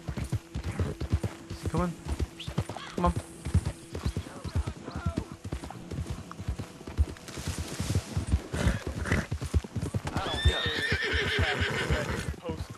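Horse hooves clip-clop steadily through a Red Dead Redemption 2 game scene, with a few whinnies and neighs rising near the end, while someone talks over much of it.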